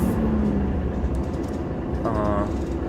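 A MAN NG313 Lion's City diesel bus in Ljubljana, its engine giving a steady low rumble under a voice, with a brief tonal whine rising near the end.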